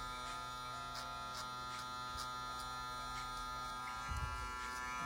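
A Supreme electric hair trimmer fitted with a 1.5 guard buzzes steadily and closely while cleaning up a taper, holding one even hum throughout with a soft touch of contact near the end.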